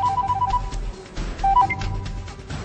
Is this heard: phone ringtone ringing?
yes